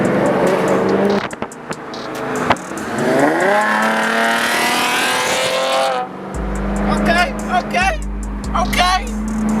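A restored Chevrolet Camaro driving in traffic: loud engine revving and rising acceleration with a tire squeal, then a low steady engine drone while people talk over it.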